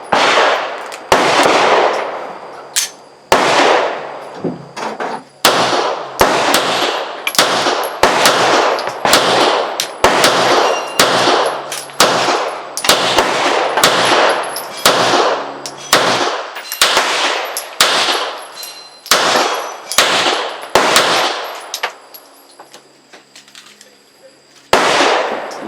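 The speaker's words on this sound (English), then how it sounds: "And that was a Mektar mag out of the Smith Wesson 659." Smith & Wesson 659 9mm pistol shot with a 17-round Mektar magazine at an outdoor range, a loud close string of about twenty evenly paced shots, each with a sharp crack and short ringing tail, then quiet.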